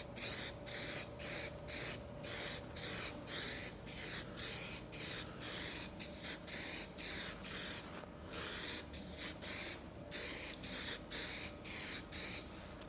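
An aerosol spray paint can lays a light dust coat on an MGB car part in a steady run of short hissing bursts, about twenty evenly spaced quick sprays, close and fairly loud with no talk.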